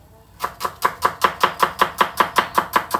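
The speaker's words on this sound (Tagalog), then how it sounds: "nahiwa ko ng sibuyas at kamatis at bawang" A knife chops onion on a board in a fast, even rhythm of about a dozen crisp, close strikes, loud and alone after a quiet start.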